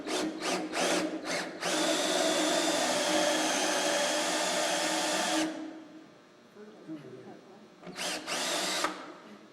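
A sharp Forstner bit bores into wood in a sustained loud drilling whine, preceded by several short trigger bursts and followed by two more brief spins after a quieter pause.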